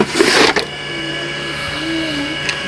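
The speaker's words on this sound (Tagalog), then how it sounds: "Mas nahihirapan pang umikot yung blower natin. Hirap umikot." A struggling blower fan in an old 86000W inverter under repair whirs with a steady motor hum and faint tonal whine, after a short loud clattering burst at the start.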